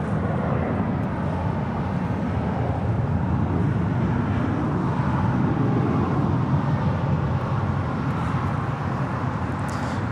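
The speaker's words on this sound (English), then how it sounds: "That was JetBlue Airways Flight 1124 heading to JFK at A321" A JetBlue Airways A321 jet departing LAX, a loud continuous broadband engine roar holding steady throughout.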